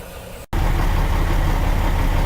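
A truck diesel engine idles between 600 and 900 RPM during an air brake system check, a loud steady low rumble that kicks in abruptly after a brief cut and holds constant.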